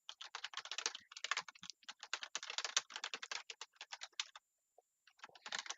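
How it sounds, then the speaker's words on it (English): Fast, forceful typing on a computer keyboard, a dense close clatter of keystrokes in bursts with one brief pause near the end, no voices. "Aggressive typing."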